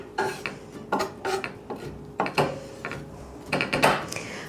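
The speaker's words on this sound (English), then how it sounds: "use the flat of your knife to kind of mash it" A knife blade pressed flat onto garlic cloves on a kitchen board, giving a series of short knocks and clattery scrapes in irregular bursts, close and fairly quiet, with no talk.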